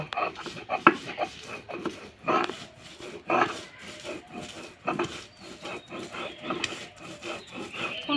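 Neem leaves being ground into a paste by hand, heard as repeated close scraping and grinding strokes, irregular and rhythmic, with occasional sharper knocks.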